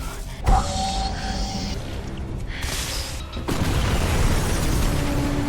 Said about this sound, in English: saved by the explosion. That was pretty perfect timing.